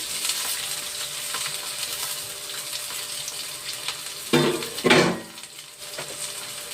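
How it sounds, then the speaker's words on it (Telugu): Onions drop into hot oil in a pan, giving a steady frying sizzle with a brief louder burst of crackling partway through, along with faint clinks from the pan. "ఉల్లిపాయలు పోస్తున్నాను, ఉల్లిపాయలు వేస్తున్నాను."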